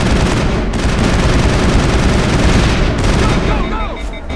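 Gunfire in the sci-fi shooter Mass Effect, a dense, loud, continuous barrage of rapid shots and blasts filling the whole stretch, close and overwhelming.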